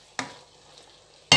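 A spoon scrapes and stirs pork mince with chilies in a pan, two sharp clacks of utensil against the pan bracketing a soft shuffle of the mixture, close and alone.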